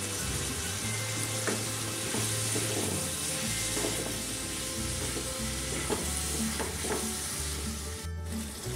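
Tomatoes frying in a pan with salt and turmeric sizzle steadily and loudly throughout, with a utensil stirring and scraping at intervals and a short break near the end.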